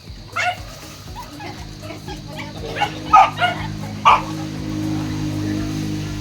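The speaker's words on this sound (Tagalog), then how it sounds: "Mabawag si Dudang ng mga alagang aso." Pet dogs at a home bark in short, sharp bursts, several scattered yips and barks near the microphone over a low hum of background noise.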